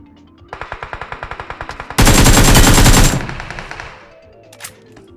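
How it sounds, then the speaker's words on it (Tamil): Gunfire in a multiplayer shooter video game: a rapid automatic burst of evenly spaced shots, then a dense, loud roar of fire that fades away into a few scattered sharp reports. "இங்கதான் கன்சவுண்ட் கேட்டுது."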